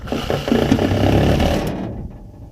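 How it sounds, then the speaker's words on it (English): A small Makita reciprocating saw cutting during a lift pump install on a Ford F150, a busy mechanical buzz that holds steady for about two seconds, then cuts off. "Here we got Makita's little frickin' tiny little sawzall."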